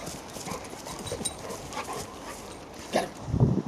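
Two Labrador dogs move about nearby, with scattered pattering, snuffling and faint whimpers over a steady background hiss. No one speaks.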